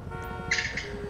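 A short car horn honk in the video game Grand Theft Auto V, a single bright, steady blast of about half a second that sounds over a low, continuous game background, with no talking.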